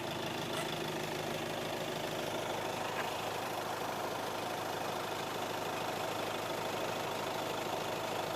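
A 2016 Hyundai Elantra S with a 1.6 diesel engine and manual gearbox idles steadily in the open, giving a constant, even, mid-pitched diesel clatter that stays close and unbroken throughout, with no one talking.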